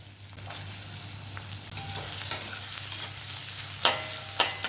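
Onions sizzle and crackle in hot oil while being sautéed for a Tamil cluster-bean masala dish, a steady frying hiss with occasional scraping stirs and louder bursts toward the end.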